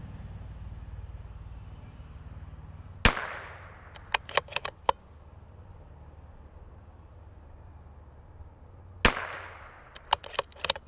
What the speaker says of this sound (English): We'll just kind of shoot 2 groups here, see what we get.